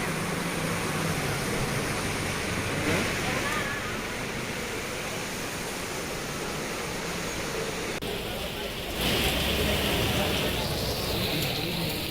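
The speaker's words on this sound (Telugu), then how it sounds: "నాన్ స్టాప్గా గంటర్ నుంచి కూడా గంటన్నర నుంచి కూడా వర్షం కురుస్తూ ఉంది" Heavy non-stop rain pouring over Hyderabad streets, a loud, continuous hiss of downpour that shifts slightly in tone midway, with voices faintly present beneath it.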